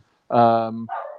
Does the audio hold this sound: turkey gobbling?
no